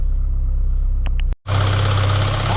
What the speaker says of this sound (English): I'm gonna give it a couple revs